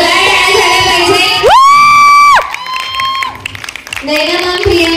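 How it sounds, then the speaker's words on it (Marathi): A crowd claps and cheers at a talk show trophy presentation, with a loud whoop that rises and holds for about a second amid the steady, dense noise of the audience. "जोरदार टाळ्या झाल्या पाहिजे"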